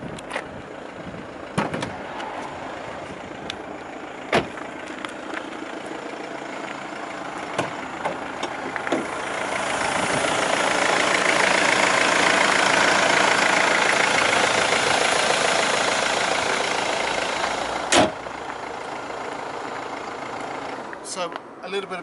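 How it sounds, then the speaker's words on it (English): A Mercedes-Benz C220 engine idles under the open bonnet, a steady hum that swells louder midway and then eases, with several sharp clicks and knocks scattered through. "while the engine's running, let's have a little listen under the bonnet"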